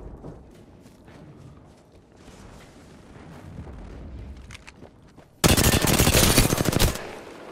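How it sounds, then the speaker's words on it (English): Rapid automatic gunfire from a tactical shooter video game, a loud sustained burst of shots near the end after quieter game ambience, with no speech. "I shot at the enemy"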